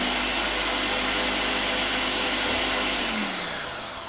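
An electric mixer whirs steadily as it blends wild ricotta ice cream, a loud close motor hum that winds down and fades in the last second.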